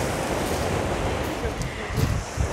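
Sea waves break on a shore on a mild December day, a loud continuous roar of surf with wind buffeting the microphone and a couple of heavier surges near the end.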